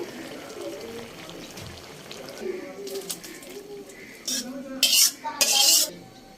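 Cooked Malabar spinach with shrimp scraped from a pan into a bowl: sharp metallic clinks and scrapes of a utensil against cookware, loudest in bursts near the end, over faint background noise.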